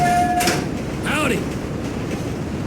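A train runs in Grand Theft Auto, with a steady loud rumble and rail clatter, a brief high whine at the start and a sliding, squealing sweep around the middle.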